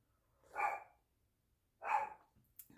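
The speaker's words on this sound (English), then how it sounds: "Pardon the barking dogs." Dogs barking indoors, two separate bursts of barking about a second apart, then a short fainter yelp at the end, with quiet between.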